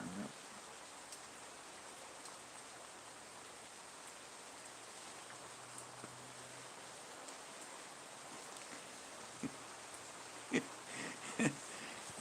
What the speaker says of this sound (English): it's still raining like hell here